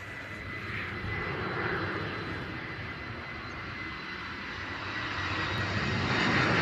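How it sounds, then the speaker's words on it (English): An EasyJet Airbus A320 landing at Bristol Airport, a continuous jet engine roar that swells gradually as it approaches, heard from the ground at a distance. "EasyJet coming in from Charles de Gaulle, A320."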